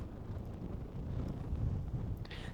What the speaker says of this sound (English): Got windy again all of a sudden.